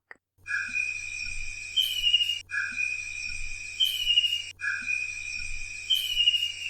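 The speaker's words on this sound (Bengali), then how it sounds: "দিক বেদিকে ব্যাঙের ডাক।" Frogs calling on a rainy night, a steady chorus of trilling, whistle-like croaks with insect-like buzzing, repeating in even cycles every couple of seconds at a moderate, continuous level with no voices.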